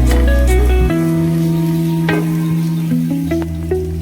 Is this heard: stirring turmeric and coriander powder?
yes